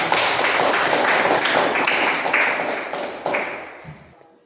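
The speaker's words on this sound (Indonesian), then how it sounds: "Malah kita beri tepuk tangan untuk demikian." A classroom full of people clapping, dense applause that holds steady and then tapers off into a few last claps.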